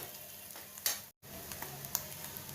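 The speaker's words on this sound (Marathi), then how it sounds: "खोबरं अद्रक हे व्यवस्थित लसूण हे छान असं व्यवस्थित फोडणीत लाल झालं पाहिजे" Coconut, ginger and garlic roast in a hot oil tempering, a steady quiet sizzle with a few sharper crackles and stirring clinks, with a brief dropout partway through.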